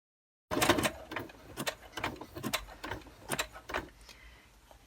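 A sewing machine stitches a journal cover, running in short uneven bursts with brief stops, moderately quiet and close with no talking.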